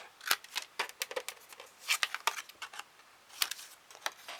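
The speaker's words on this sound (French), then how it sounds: "De la petite bande qu'on vient de marquer, on coupe les coins" Scissors snip the corners off a small marked strip for a three-compartment pouch, giving a quick irregular run of sharp, close clicks and cuts with short pauses between.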